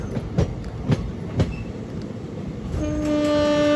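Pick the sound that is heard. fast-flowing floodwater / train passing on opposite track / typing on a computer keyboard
train passing on opposite track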